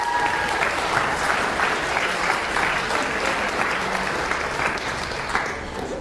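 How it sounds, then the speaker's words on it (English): A lecture audience claps in a sustained, even burst of applause for a birthday guest being called on stage, dense and fairly loud throughout with no speech over it. "can you get a round of applause for Li Xing Chang?"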